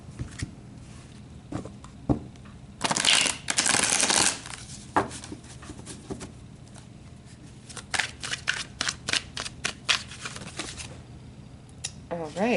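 A deck of tarot cards being shuffled at close range, with a long burst of riffling followed by a run of quick, sharp card snaps and taps; no talking.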